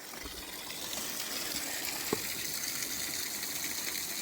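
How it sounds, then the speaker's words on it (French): Drinking water from a roadside spring source near Drolet runs into a bottle, a soft, steady gushing flow heard throughout with one faint click partway through. "On va remplir la bouteille."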